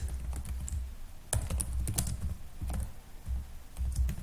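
Typing code on a computer keyboard, a string of close key clicks in small clusters with brief pauses, over a low background hum and no talking.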